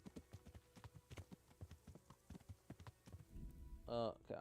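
Horse galloping in Kingdom Come: Deliverance, a fast, even rhythm of heavy hoofbeats close up, with a brief voice at the end.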